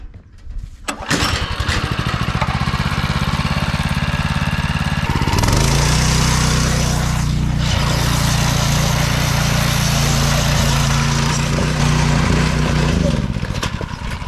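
A go-kart's 6.5HP small engine runs steadily at full throttle, a loud continuous droning hum with a brief surge partway through before it cuts out near the end.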